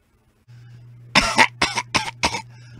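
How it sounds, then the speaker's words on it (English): A young person pretending to be sick with flu, giving four loud, forced, hacking coughs in quick succession after a short vocal intake, close up over a low steady hum. "keep pretending you have the flu and cough and hack and complain that you're sick"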